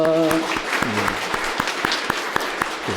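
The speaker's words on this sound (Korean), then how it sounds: "우리 박수로 환영하겠습니다." A church congregation at a Sunday service claps to welcome a newly registered member, the applause rhythmic and moderately close, with a voice speaking at the start.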